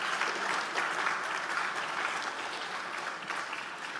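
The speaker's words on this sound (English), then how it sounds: "Let's take a moment to give a round of applause to all of our distinguished speakers" Audience at the Oxford Africa Conference 2025 closing session applauds its distinguished speakers: a steady, dense wash of clapping throughout, fairly soft and distant, with no voices over it.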